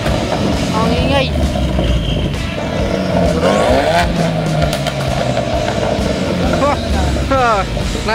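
An upgraded Mustang's engine roars loud and steady in a Mafia video game, revving with a rising whine and tire squeal, while voices talk over it.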